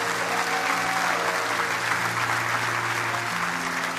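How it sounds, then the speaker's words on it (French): A church congregation breaks into sustained applause during a sermon, a dense and steady clapping that fills the space throughout, with musical tones ringing underneath. "Acclame, acclame, acclame,"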